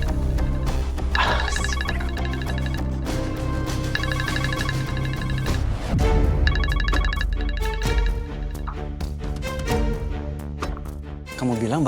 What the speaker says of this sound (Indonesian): tapi aku dengar suara handphonenya di sini loh